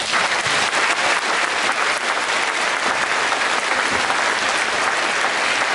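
An audience in a concert hall breaks into loud, dense applause, a sustained roar of clapping from a large crowd with no letup across the whole stretch.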